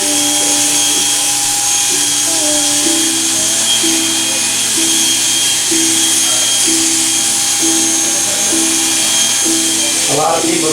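Electric hair clippers trim straight across long hair with a steady, close buzzing motor hum that holds throughout.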